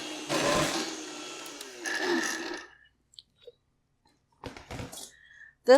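Kitchen blender whirring through homemade pesto with olive oil and water, two short loud bursts of motor noise with a pause between, then quiet and a few brief clatters.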